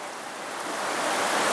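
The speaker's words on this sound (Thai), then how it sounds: "ฝนตกเยอะมากนะครับ" Heavy rain pours steadily on a rural Thai house at night, a dense, even hiss that slowly grows louder, with no voices over it.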